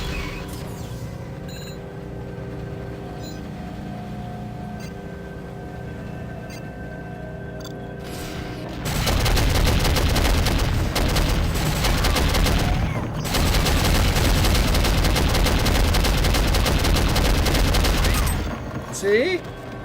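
Sustained bursts of gunfire from the PC shooter Soldier of Fortune (2000), loud and dense for about ten seconds after a quieter stretch of game ambience, with a brief pause partway through.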